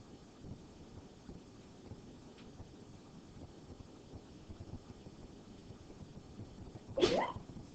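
A single short, sharp sneeze bursts out near the end in a pre-calculus classroom over a steady, faint background hiss.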